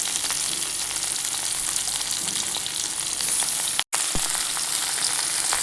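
Potatoes sizzle in hot oil for a mixed vegetable curry, a loud, dense, crackling fry that continues steadily with one brief break partway through.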